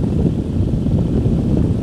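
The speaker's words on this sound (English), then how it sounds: "There's a skydiving plane off our left." A skydiving plane flying nearby, heard from a hang glider over Hawaii, a constant loud propeller-engine drone mixed with rushing wind and no voices.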